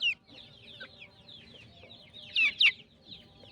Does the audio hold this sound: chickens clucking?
yes